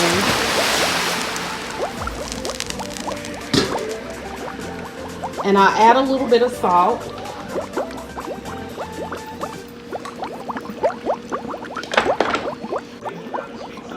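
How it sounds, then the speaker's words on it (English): Water boils, bubbling and splashing in a pot of potatoes while a person talks nearby, with clinks and drips throughout. "Water's already boiling."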